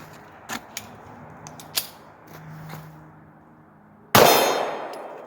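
A Glock 43 pistol fires a single loud shot of Tula hollow-point ammunition. The report lands near the end of the clip, after several small metallic clinks and clatters, and leaves a decaying ring behind it.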